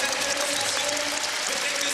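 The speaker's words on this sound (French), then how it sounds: "On peut les applaudir très fort" Brief burst of audience applause at a martial arts festival after a canne de combat and bâton bout, a dense even wash of clapping with no voices.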